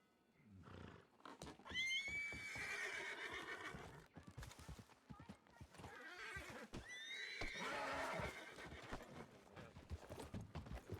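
A horse in the WildRP roleplay video game lets out two loud, drawn-out neighs with clopping hooves and stamping between and after the calls, close and distinct.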